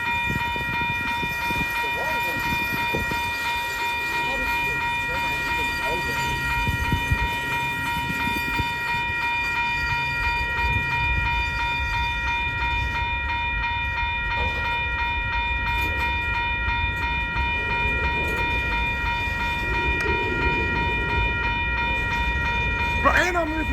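A Union Pacific or BNSF freight train rolls past at a crossing in Rochelle, Illinois, heard as a steady rumble with clattering wheels. A constant high warning tone, likely crossing bells or a horn, rings over it while people talk faintly nearby.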